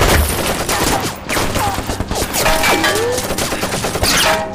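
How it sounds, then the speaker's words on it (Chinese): Machine guns fire from an enemy bell tower in a Korean War battle drama, a dense, loud, continuous barrage of gunfire with shouting voices mixed through it. "至少2挺机枪"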